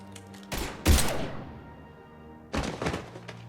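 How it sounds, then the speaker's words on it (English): Gunfire from Mass Effect 3 erupts in loud, sharp bursts: a few shots around the first second, then a quieter lull before another rapid volley near the end. "Now open fire!"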